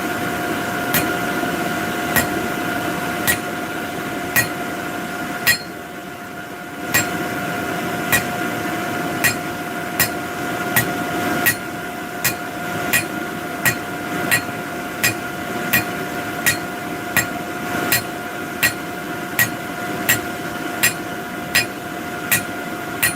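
Hammer forging a taper on a tent stake, a long series of sharp ringing metallic strikes at a steady rhythm over a constant background hum, fairly close and moderately loud.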